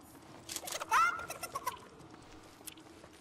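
Chicken clucking in a battle royale video game, with a few quick, close, clucking bird calls over a soft game background with light pattering.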